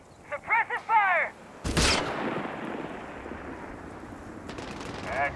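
Machine gun suppressive fire in Company of Heroes 3 multiplayer, a sharp loud burst followed by a long rolling echo of gunfire, with short shouted voice lines heard before and at the end.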